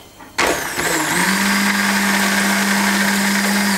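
Electric blender or mixer emulsifying a parmesan sauce, starting abruptly and revving up to a loud, steady high whine that runs on continuously at close range.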